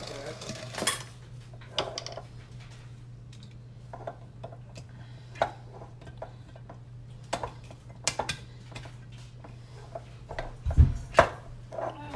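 Pre-made pie filling goes into a baking pan for an apple crisp, heard as scattered soft clinks and scrapes of utensil against the pan over a steady low hum, with one louder knock near the end.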